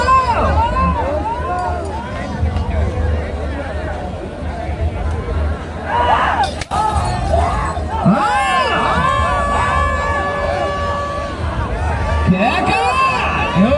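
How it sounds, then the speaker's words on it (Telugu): A large outdoor crowd at a rural bull-pulling competition shouts and cheers, with loud overlapping voices and whoops rising and falling, and a sharp crack in the middle. "కేకలు కేరింతలు."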